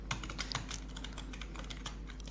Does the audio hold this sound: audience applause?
no